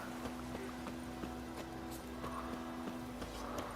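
Roach, Geralt's horse in The Witcher 3, clops along in steady hoofbeats, each step a soft regular thud over a constant ambient drone with faint wind.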